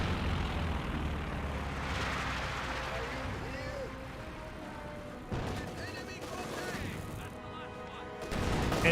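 Panther and Panzer IV tanks fire in the Company of Heroes 2 video game, with booming shots and battle noise under continuous talk.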